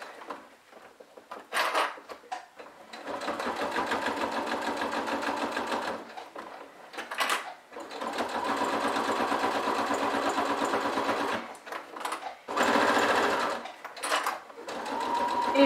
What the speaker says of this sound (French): Et je couds comme ça tout le tour.